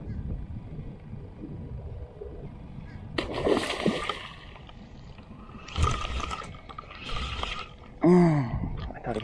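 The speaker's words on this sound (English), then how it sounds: "When the mullet hit the water, it seemed like they spooked but wrapped around again and blasted it." Mullet and tarpon splash in a residential canal, with several sharp surges of churned water over a steady background wash and light wind noise; people talk nearby.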